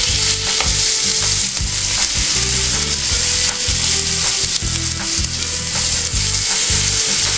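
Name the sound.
fish pieces frying in a pan on the stove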